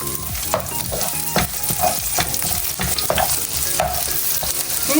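Onions sautéing in a pan for ginisang pako, a loud steady sizzle with repeated spatula scrapes and clinks against the pan.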